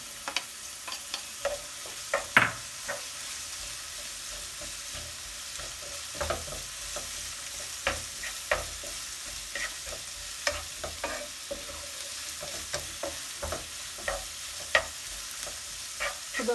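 Corn being stir-fried in a pan while making noodles: a steady soft sizzle under scattered, irregular clicks and scrapes of stirring, close and fairly quiet, with no talking.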